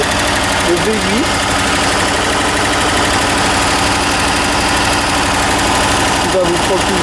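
A 1981 Bentley Mulsanne's V8 idling with a smooth, steady, loud low rumble close by, someone speaking briefly over it at the start and near the end.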